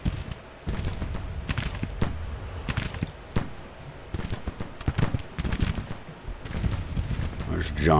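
Civil War battle gunfire and artillery in Grand Tactician: The Civil War, irregular bursts of musket volleys and booming cannon shots, some near and some distant, with a voice talking over part of it.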